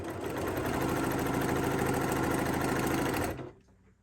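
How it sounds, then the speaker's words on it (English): A sewing machine runs steadily at speed while stitching a quilt block, a loud continuous whirring that stops abruptly after about three seconds. "So I'm going to sew this one."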